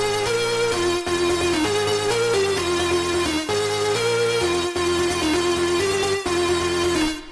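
A song's drop in its second part, where a bright lead melody climbs upward over pulsing synth chords and a steady beat, loud and continuous with brief rhythmic dips.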